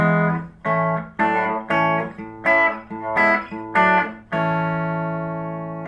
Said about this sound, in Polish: Brzmi tak na humbuckerze z PRS-a.